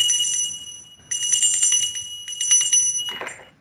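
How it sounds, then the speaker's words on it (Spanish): A hand bell in a workshop is rung in quick, bright, jangling strokes in two bursts, ringing loudly and close with a short metallic clatter at the end, and no talk. "vas a ver que yo tengo una campana"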